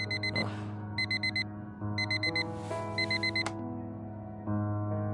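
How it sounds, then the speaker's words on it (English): A repeating electronic alarm-clock tone from the video game Fragments of Him, sounding in short rapid beep bursts in several separate groups over a low steady background hum, loud and close. "The same alarm tone that Harry can sleep through."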